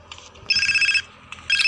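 A phone rings in the video game GTA San Andreas, with short electronic ringtone bursts repeating in two quick rings, clear and alone.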